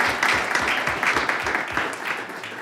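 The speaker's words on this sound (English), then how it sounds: "Let's give them a round of applause." Attendees at a school district governing board meeting applaud the people just recognized, with a moderate, steady patter of many hands and some sharper individual claps near the start, easing slightly toward the end.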